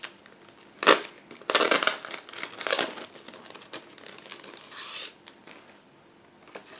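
A small plastic bag holding a decal sheet from an Eduard 1/48 Folgore kit is opened close up, with sharp crinkling and rustling bursts that fade into softer handling.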